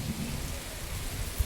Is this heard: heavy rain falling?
yes